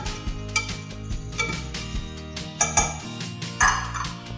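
Chopped onions frying in a pan for an aloo keema dish, with steady sizzling under repeated clinks and scrapes of a metal utensil stirring against the pan, close and fairly loud.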